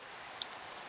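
Steady rain falls in a video game, a soft even hiss of pattering drops with one brief brighter drip standing out, faint and continuous with no talking.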